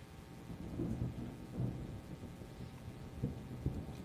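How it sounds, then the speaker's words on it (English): Thunder rolls in from an approaching storm, deep rumbles swelling and fading across several seconds, with rain hissing steadily underneath and a couple of sharper cracks near the end. "I could hear the thunder"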